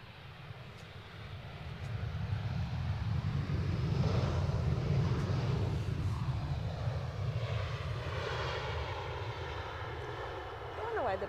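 An Aer Lingus airliner at Edinburgh airport, a steady distant jet engine roar that swells and fades while people talk nearby.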